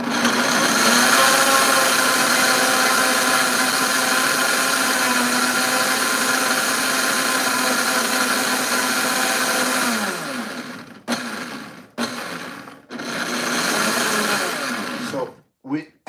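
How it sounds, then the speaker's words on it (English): An electric blender whirring through ginger, a loud steady motor whine for about ten seconds that then winds down and restarts in several short pulses before stopping. "so because I want to blend this one"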